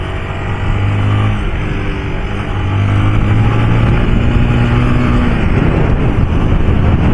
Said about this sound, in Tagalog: Ito sa motor sa likod ko.